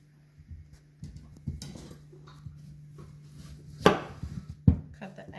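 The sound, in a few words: knife cutting sweet potatoes into thin strips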